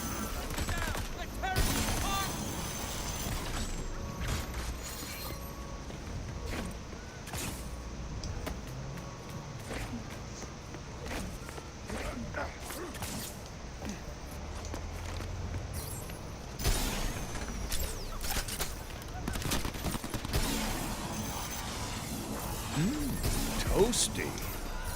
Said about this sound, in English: Watch the enemy fire.